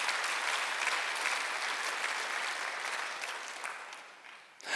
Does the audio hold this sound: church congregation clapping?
yes